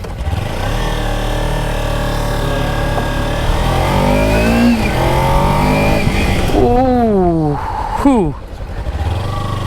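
A 2025 Kawasaki Ninja 300 engine runs steadily near a showroom during a test ride, then revs up and down in sharp rising and falling sweeps, with people talking over it throughout.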